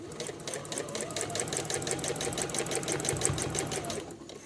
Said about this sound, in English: bias binding over the top, and then sew